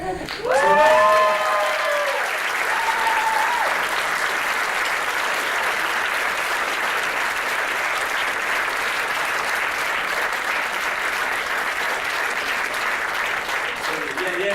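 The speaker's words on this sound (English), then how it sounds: "Give them some round of applause" Audience applause for the directors of a sketch at a school winter festival, long sustained clapping with cheering voices at the start, then a steady even roar.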